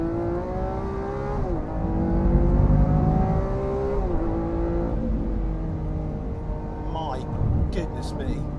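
A Lamborghini Aventador S engine with a lighter exhaust system howls through rising revs and gear changes, loud and close, with a brief crackle near the end and talking over it.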